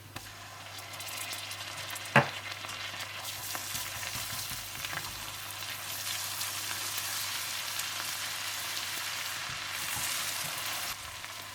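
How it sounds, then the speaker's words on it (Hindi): Sliced onions with ground ginger-garlic paste fry in a pan for coal butter chicken, giving a steady, even sizzle that hisses throughout, with one sharp utensil clink early on. "जैसे ही प्याज हल्के से गोल्डन ब्राउन होने लगे तो आप इसमें पिसा हुआ अदरक लहसुन डालकर भून लें।"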